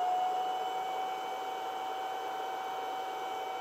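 A Harris RF-130 transmitter's 11,000 RPM, 400 hertz cooling fan whines steadily with a piercing tonal pitch and hissing airflow, constant and close throughout with no talk.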